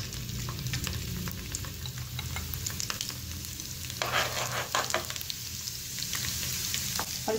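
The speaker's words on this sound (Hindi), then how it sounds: "ऑयल हमारा गर्म हो गया अच्छे से, अब हम इसके अंदर लहसुन ऐड कर देंगे।" Garlic pieces fry in hot oil for a restaurant-style tadka dal, a continuous close sizzle with scattered crackles and pops and occasional stirring.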